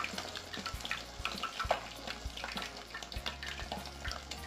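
Rabanada bread slices frying in hot oil, a steady close sizzle and crackle with occasional soft knocks and scrapes from handling the slices.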